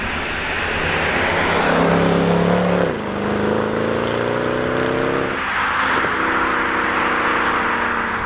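Mercedes C63 AMG 507 Edition with its 6.2L V8 driving hard, a loud, steady engine roar climbing through gears, with a brief dip in pitch around a shift before rising again.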